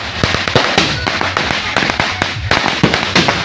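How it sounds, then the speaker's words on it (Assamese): Firecrackers burst in front of the bride's house during a wedding in Assam, a loud, close, rapid string of sharp cracks and bangs firing in irregular bursts without pause. "কইনাৰ ঘৰৰ সন্মুখত পুৰা বোমা ফুটি আছে একদম জবৰদস্তি বোমা ফুটি আছে"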